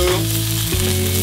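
Tofu frying in a hot pan for spinach mushroom enchiladas, a brief, loud, dense sizzle with a low hum underneath, close up and without voices.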